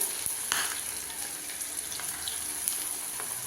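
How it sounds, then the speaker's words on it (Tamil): Steady crackling sizzle of okra frying in hot oil, continuous and close, with occasional sharper pops and no voices. "இப்போ நான் ஒன்று ஒன்றா அதில் எண்ணெயில் பொரிக்கிறேன்."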